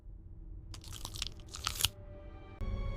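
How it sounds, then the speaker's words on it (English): Muffled, wet crunching and crinkling from below ground as a corpse chews its own burial shroud, several gnawing bursts in the middle followed by a duller rumble near the end, with no voices. "a muffled, sickening chewing sound comes from below ground"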